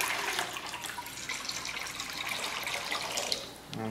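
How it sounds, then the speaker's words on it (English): A gallon of water is poured into a container in one continuous splashing stream that ends abruptly, close and fairly loud, with no talking. "I have a gallon of water here. I'm going to pour it in here just to see."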